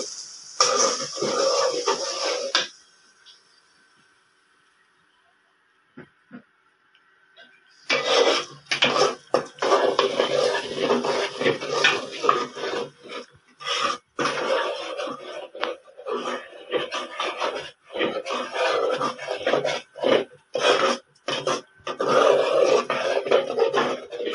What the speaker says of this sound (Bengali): আমার চাল আর ডালটা অলমোস্ট ভাজা হয়ে গিয়েছে।